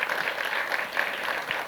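Brief burst of clapping during a film promotion interview, steady and fairly soft, with a continuous patter of hands and no clear talk over it.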